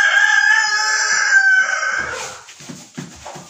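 A rooster in a chicken coop lets out one long, loud, close crow that fades out, followed by soft clucking and quiet shuffling from the hens.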